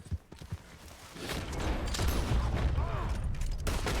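Rapid gunfire bursts in Red Dead Redemption 2, a dense volley of shots following a few isolated early pops, fairly loud and continuous with no talk over it.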